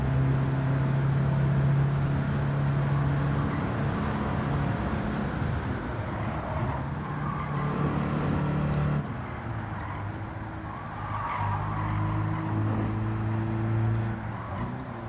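A turbocharged Mazda6 in Gran Turismo 7 holds a steady droning engine note with shifting pitch and a brief drop in revs midway, loud and continuous with no talking.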